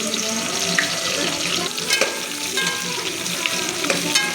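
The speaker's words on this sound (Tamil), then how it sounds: "வெங்காயம் நல்லா பொன்னிறமாக வதங்கி ஒரு ஃப்ரைடு கன்சிஸ்டன்சி வர வரைக்கும் வதக்கிக்கலாம்." Onions frying with a bay leaf in hot oil for chicken biryani, a loud, dense, close sizzle running throughout with occasional stirring clicks and scrapes.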